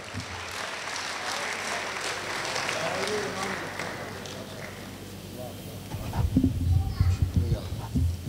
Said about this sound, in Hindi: आप हज़रात ज़ोरदार तालियों से उनका इस्तक़बाल